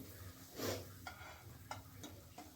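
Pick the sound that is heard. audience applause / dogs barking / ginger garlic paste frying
ginger garlic paste frying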